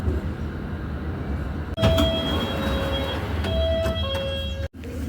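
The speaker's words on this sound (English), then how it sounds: "The next station is Chesham, where this train terminates." A London Underground train terminates at Chesham station with a steady rumble of the carriage, a sudden clunk partway through and faint high tonal whines from the running gear, close and continuous.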